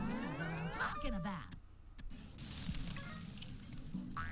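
Food sizzles and fries in a SpongeBob video game, a faint continuous hiss under game sound effects and music, with a brief dip partway through.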